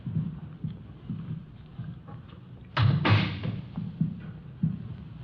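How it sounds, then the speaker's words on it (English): A door opens in an old radio crime drama. Faint footsteps and shuffling lead to a sudden louder clunk and creak of the door, followed by a few softer knocks and thuds. "I'll get the door."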